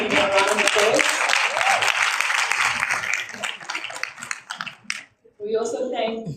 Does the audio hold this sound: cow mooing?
no